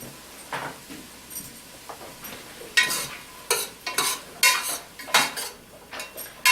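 Chopped garlic hits a hot pan and sizzles while a utensil stirs and scrapes against the cookware, giving a run of sharp clatters and bursts of frying noise.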